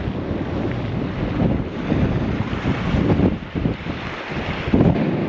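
Strong gusting wind buffets the microphone in a steady low roar, with surging rushes and water sloshing faintly beneath.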